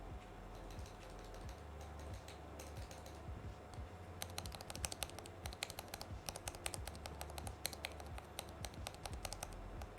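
Keys of a computer keyboard being tested after service clatter in quick uneven bursts, sparse at first and then a dense run of crisp clicks near the mic, with steady low background hum and no talking.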